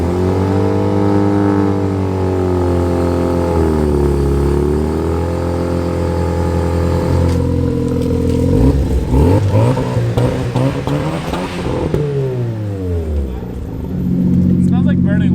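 A single-turbo BMW E92 335i engine idles steadily, then revs up and down several times with rising and falling pitch, loud and close throughout.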